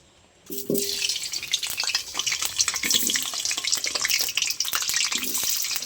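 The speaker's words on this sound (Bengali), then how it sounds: "তো এবার গরম তেলের মধ্যে আলুগুলো দিয়ে দেবো" Potatoes dropped into hot mustard oil in a wok crackle and sizzle loudly after a quiet start, with a steady frying hiss, scattered pops and occasional clinks of a utensil stirring.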